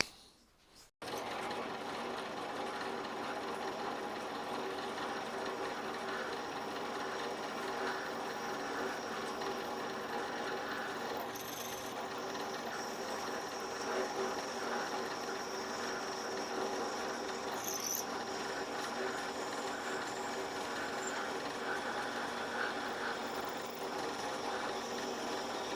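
A drill works steadily for a long stretch, boring out a hole in a homemade speed handle for a milling vise, with a continuous mechanical whir and faint gear-like rattle close by. No one speaks.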